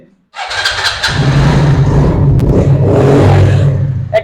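A motorcycle engine starts at a bike showroom and settles into a loud, steady idle close by, with people talking faintly in the background.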